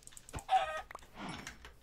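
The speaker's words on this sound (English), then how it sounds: "Let's go and kill a chicken, I guess." Short clucking bursts from a chicken in the blocky sandbox game Minecraft, a few quick clipped calls mixed with faint clicking, fairly quiet and close.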